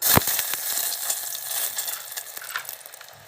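Close, crackling sizzle of a spice tempering frying in hot oil over glowing embers, with sharp pops over a continuous bright hiss.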